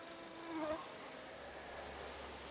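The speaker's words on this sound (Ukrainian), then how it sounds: "Бджоли щось з кожною хвилиною все більше і більше" Honey bees buzz faintly around a swarm trap at an apiary, a soft, thin hum drifting near and far with a slightly louder pass early on, with no one talking.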